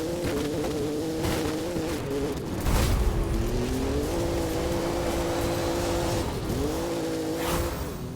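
A Camaro races through a video game, its engine droning steadily with pitch shifts as it shifts gears and accelerates, and there are brief tire squeals and a loud bump partway through.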